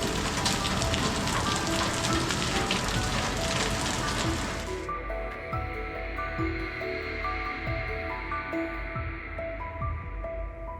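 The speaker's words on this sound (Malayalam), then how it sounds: "പുറത്ത് നല്ല മഴയാണ്." Heavy rain pouring outside in Kodaikanal, a dense, loud hiss for the first few seconds that then drops to a softer, steady patter with scattered drips.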